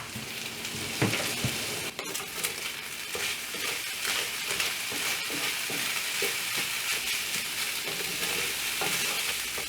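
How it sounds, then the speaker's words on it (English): Ground beef sizzles and crackles steadily in a hot pan for a gluten-free taco salad, with scraping stirs of a utensil heard close up and no talking. "Once your ground beef is almost all the way cooked, just like this, stir in your spices. Give it a really good stir."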